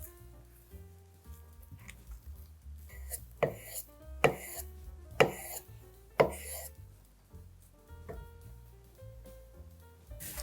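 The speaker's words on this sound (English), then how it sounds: "we're gonna slice up some avocado" A knife cuts through avocado on a board in a series of soft taps and a few sharper knocks, irregular and close, set against quiet kitchen background.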